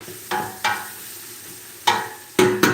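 Cajun sausage and bean soup stirred in a pot, five short scraping strokes at uneven intervals against a faint simmering background, with no talking.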